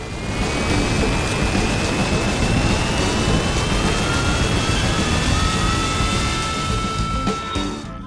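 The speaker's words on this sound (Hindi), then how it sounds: "हवाई जहाज शक्तिशाली ढंग से उड़ान भरता है, ऊंची उड़ान भरता है" A large airplane takes off on a bright morning, its jet engines giving a loud, steady roar that fills the whole stretch with a slowly rising whine and no pauses.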